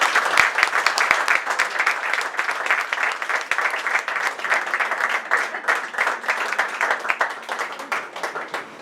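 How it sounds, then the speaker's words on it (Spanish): An audience at an awards ceremony and international congress on Jotabé rhyme poetry applauds a poet: steady, dense clapping fills the room without a break, with no voices over it. "Les pido un aplauso para él"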